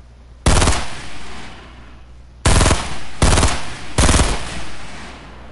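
Sniper rifle fire in the video game Fortnite: four loud, sharp shots, one alone and then three in a quick uneven burst, each with a short booming tail.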